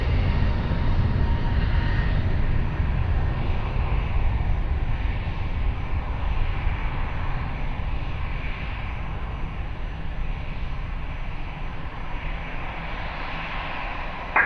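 A passenger airplane takes off from runway 20 at Lisbon Airport, its engines a continuous broad roar with a heavy low rumble, steady and fairly loud for the whole stretch.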